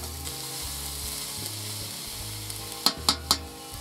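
Oil sizzles steadily in a kazan as a vegetable mix fries, with three quick clinks of a utensil against the pot near the end.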